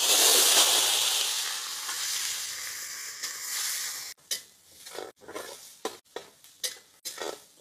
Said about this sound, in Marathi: तर आपण बॉईल केलेलं चिकन फ्राय करून घेऊ।